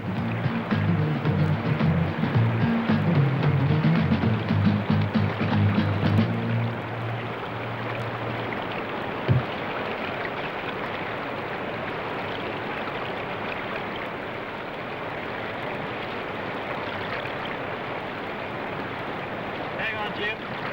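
Rapids on the Nymboida River rush in a continuous broad wash, loud and steady throughout, with a low rumbling layer in the first seven seconds and a single knock near the middle.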